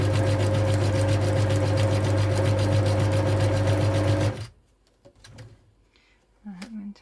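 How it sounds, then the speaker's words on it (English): Sewing machine running a zigzag stitch around the edge of fabric, a loud steady whirring hum close up for about four seconds before stopping, followed by quiet handling sounds and a brief voice. "we're going to zigzag all the way around"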